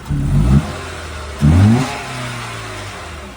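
Two short, throaty revs from a car's 2-liter engine about a second apart, each swelling and dropping back to a low idle rumble, close by.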